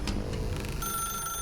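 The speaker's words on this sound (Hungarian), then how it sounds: "Ott a telefon." A telephone rings in the video game The Stanley Parable, a steady electronic tone sustained over a low room hum, clear and close.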